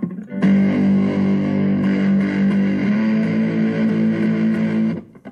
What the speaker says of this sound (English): I'm going to turn the gain all the way. This is going to be really distorted.